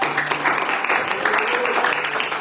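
Church congregation applauding during a sermon, a dense, steady wash of clapping across the whole moment with no break, close and fairly loud.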